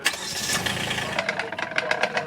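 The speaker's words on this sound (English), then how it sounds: "Rolling the truck, putting fire out while moving." A wildland fire engine truck drives during a mobile attack on spot fires, its engine revving and rumbling up close with rattling, clattering bursts in the second half, brief and loud.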